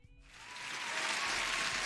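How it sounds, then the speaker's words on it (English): A burst of applause rises quickly after a short quiet moment and holds as a steady, moderately faint wash of clapping for over a second, with no voices over it. "Huge applause."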